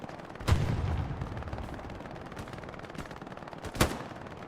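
Two sharp gunshots from an StG assault rifle in Hell Let Loose, a competitive World War II shooter, spaced about three seconds apart over a low rumbling battlefield background, moderately loud.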